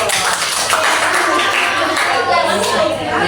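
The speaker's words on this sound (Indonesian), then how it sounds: "Kita berikan aplaus dulu" Elementary school classroom applause, a group of children clapping together in a dense, steady patter that fills the room for a few seconds, loud and close, with some chatter mixed in.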